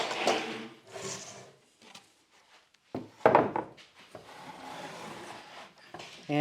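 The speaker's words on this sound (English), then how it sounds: "And we're going to put our jig on it." A wooden router jig for cutting dados is set down on a board, giving a few soft wooden knocks, rubs and shuffles with quiet pauses between, close by and fairly faint.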